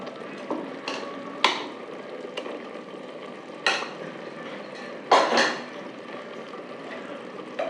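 A paste of ground tomato and green chili sautés in a pan for Tirunelveli vendakkai kulambu, giving a steady low sizzle with a few sharp scrapes and clinks of a spoon stirring against the metal. No one speaks.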